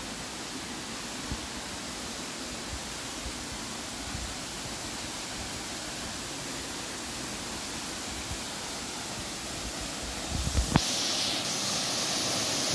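Pasalan Falls, a secluded waterfall in the jungle of Barangay Nasig-id, Zamboanguita, Negros Oriental, makes a steady, even rush of falling water at a moderate distance, with a short bump of nearby noise near the end.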